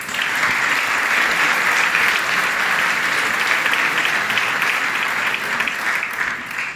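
Seminar audience applauding together, a dense, even wash of many hands clapping that holds steady for several seconds at close range, with no distinct voices.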